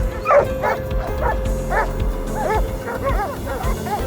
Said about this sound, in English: the dogs caught the scent and drove the hog out of hiding